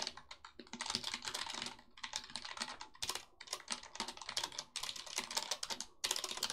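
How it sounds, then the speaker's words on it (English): Fast, uneven typing on a computer keyboard, close and crisp, with bursts of key clicks broken by short pauses and no talking. "I'm really bad at typing."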